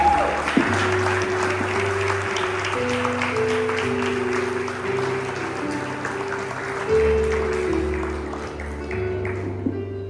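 A church congregation at a Pentecost service applauds steadily for about ten seconds, a dense sustained clapping over a held musical chord.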